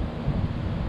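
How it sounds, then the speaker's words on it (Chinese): Strong afternoon wind blows under a bridge at a fishing spot, a brief, steady, loud roar of buffeting air across the microphone with no talking. "今天下午风很大"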